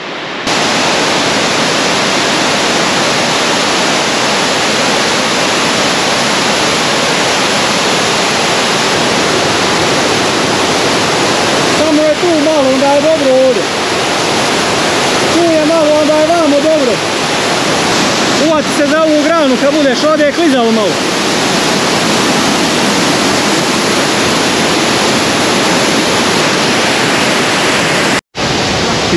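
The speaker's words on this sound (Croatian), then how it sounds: "I tamo gore vodopad." The Skakala waterfall in Durmitor's rugged Sušica area roars as a dense, steady rush of falling water, loud and unbroken throughout, with voices talking briefly over it.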